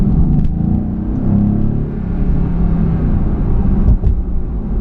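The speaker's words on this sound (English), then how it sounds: "you can just hear that V8 rumbling" A V8 car engine and exhaust rumble heard from inside the cabin at a steady cruise in comfort mode with exhaust flaps shut, a loud continuous low drone with slight swells.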